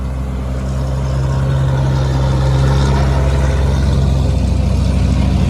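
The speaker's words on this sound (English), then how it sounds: "hear the popping of the spluttering there of the 7-cylinder right aircraft engine." A seven-cylinder aircraft engine at a WW2 battle reenactment in Yorkshire runs with a loud, steady low rumble and a dense stream of popping and spluttering, heard close throughout.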